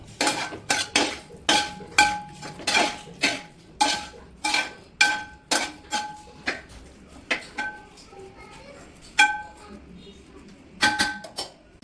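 Tomato and curry leaves with soya chunks being sautéed for a pepper roast: a regular series of metal spoon knocks and scrapes against the pan, roughly one per second, loud and close over a soft sizzle.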